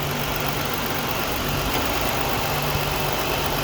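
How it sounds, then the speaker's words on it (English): A 2021 Jeep Grand Cherokee L engine idling just after starting, a steady, even hum with a constant low tone and no talk over it. "I start the engine."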